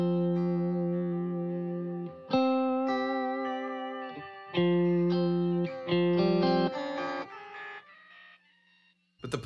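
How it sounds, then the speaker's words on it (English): A Line 6 Helix guitar processor runs a pitch echo delay on clean electric guitar notes, each repeat stepping up in pitch and trailing off in a cascade between fresh picked notes. "We have what's called pitch echo."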